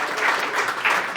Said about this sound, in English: A big round of applause for The Pyramid.